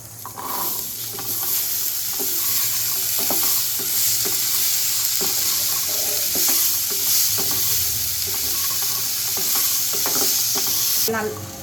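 Black chickpeas tumble into a hot tempering and are stirred, a loud continuous sizzle with rhythmic scraping of a spoon against the pan throughout, no one speaking.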